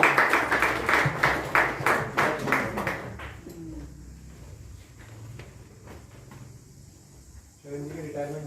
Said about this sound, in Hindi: तालियां बजाकर स्वागत किया जाए इनका